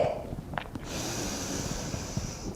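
A slow, deep breath drawn in through the nose during a Qi Gong breathing exercise, soft and close with a brief sniffing onset followed by a steady airy inhalation.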